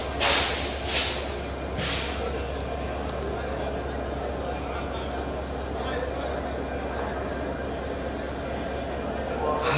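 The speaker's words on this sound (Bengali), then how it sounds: "এই ট্রেনটি কিছুক্ষণের মধ্যেই ছেড়ে যাবে এবং পদ্মা সেতুর উপর দিয়ে চলাচল করবে।" Train standing at a station before a trial run over the Padma Bridge rail line gives a steady, heavy low rumble, with a few louder bursts at the start.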